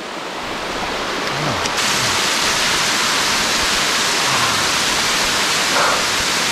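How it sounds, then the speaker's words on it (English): Steady, loud rushing roar of a waterfall on an alpine mountain creek, a continuous broadband wash of falling water filling the whole stretch with no voices. "Look at this waterfall."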